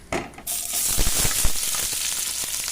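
Sliced onions tipped into hot oil with whole spices for malai chicken, a sudden loud sizzle that settles into a steady, close frying hiss with small crackles and stirring clicks.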